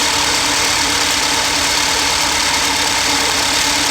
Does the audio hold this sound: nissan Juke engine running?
yes